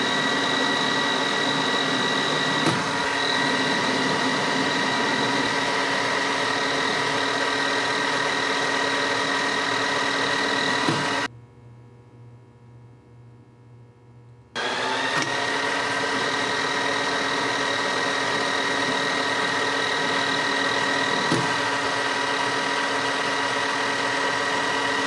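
Metal lathe turning a part down to a half-inch diameter for threads, a loud, steady machine hum with a constant high whine that cuts out for a few seconds midway and then resumes unchanged.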